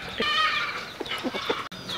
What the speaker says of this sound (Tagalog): ipapakita ko yung tandang ko na labuyo mga sipag